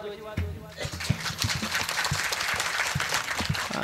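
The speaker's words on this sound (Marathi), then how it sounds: "उगाच 10 रुपयाला एक टाळी यासारखं वाजवायचं नाही, जरा मनापासून वाजवायची." An audience claps at a kirtan devotional gathering, a dense burst of hand claps that follows a brief voice and keeps going steadily.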